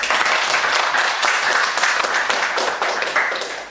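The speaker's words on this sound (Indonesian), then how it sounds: "Applause dulu buat Charlie" An audience applauding for Charlie at a talk, a loud burst of dense, close hand clapping that tapers off toward the end.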